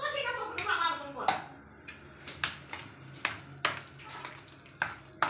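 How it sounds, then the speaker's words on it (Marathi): Batter being mixed with soda and water for a breakfast dish, a spoon scraping and knocking against the bowl in a steady rhythm of close clinks and strokes, with a voice talking over it. "मिक्स करून घेऊया सोडा पाणी टाकून"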